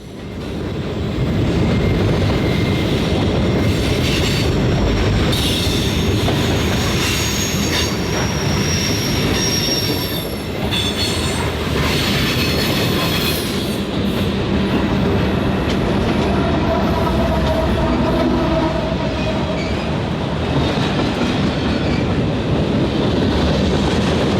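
A long Norfolk Southern freight train in Birmingham, Alabama rumbles past close by, steady and loud throughout, with wheels squealing and rattling over the rails.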